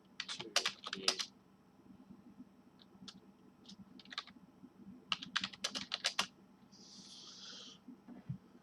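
Keys clatter on a UK-layout computer keyboard in quick irregular bursts separated by pauses, close and fairly quiet, with a brief breathy hiss near the end and no talking.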